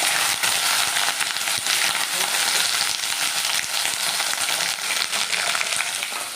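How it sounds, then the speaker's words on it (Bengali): Ivy gourd (kundri) sizzles in a pan with a steady, close, bright hiss that runs unbroken throughout, with no voices over it. "কুঁদরি ভাজা।"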